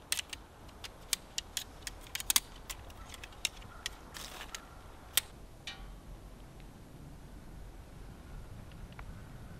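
Military tent poles for a Litefighter Catamount 2 tent are fitted together, giving a scatter of sharp, faint clicks and taps over a quiet background hiss.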